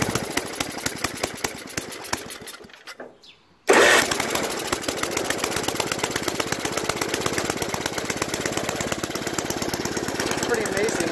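An Ariens ST824 two-stage snow blower engine runs on choke, a loud steady rapid chugging putter that cuts out briefly and then restarts and holds at full volume.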